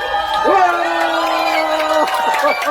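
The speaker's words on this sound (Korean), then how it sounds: "여러분 환호 한번 해주세요" An audience cheers for a choir after a concert, with loud whoops and shouts rising over a mass of crowd noise, close and lively, and voices mixed in.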